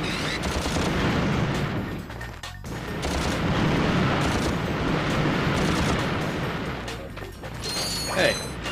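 Dense, continuous rumbling blasts from bombs exploding in the Ratchet and Clank video game, loud and sustained with brief dips, overlapping one another, with a person talking faintly underneath.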